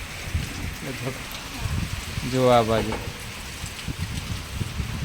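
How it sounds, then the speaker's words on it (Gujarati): Heavy rain falls steadily near a cotton field, a continuous dense patter that stays even under brief nearby talk. "વરસાદ તો બહુ પડ્યો"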